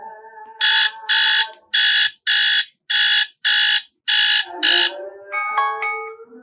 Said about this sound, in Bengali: আপনি এখানে অ্যালার্ম সেট করতে পারবেন, এটার সাউন্ড অনেক জোরালো